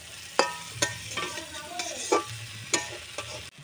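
Fish (pabda) being stirred in a hot pan with a spatula, giving repeated sharp scrapes and clatters about every half second over a steady, moderate sizzle of frying oil.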